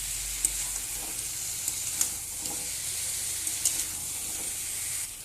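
Pomfret pieces sauté in hot oil in a pan, giving a steady close sizzle with occasional soft stirring clicks and spatter pops throughout.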